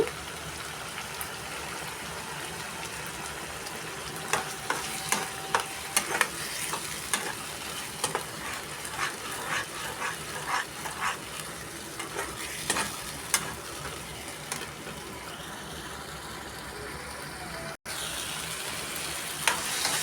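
Jackfruit masala curry sizzling and frying in a pan, with steady crackle and repeated stirring scrapes of a spoon, close and continuous with no talk, cut by a brief dropout near the end.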